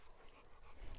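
A dog gives a short, faint whimper, close by, in a brief moment without talk.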